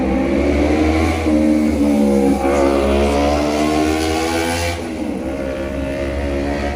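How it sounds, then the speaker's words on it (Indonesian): Motorcycles and other vehicles pass on a busy road through a small Indonesian town, a loud continuous engine drone with rising and falling revs as several bikes go by close. "Banyak motor."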